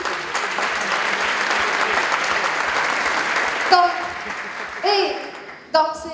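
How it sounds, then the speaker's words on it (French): Audience applause fills a TEDx talk hall, a steady loud patter of many hands that breaks off, followed by a few brief bursts of a voice. "je l'applaudis"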